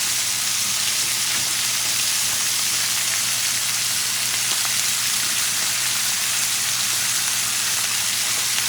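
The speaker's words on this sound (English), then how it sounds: "now I'm going to add the onions" Onions added to a hot pan for Ecuadorian churrasco sizzle and fry in a steady, dense hiss that holds evenly throughout, close and fairly loud with no talking.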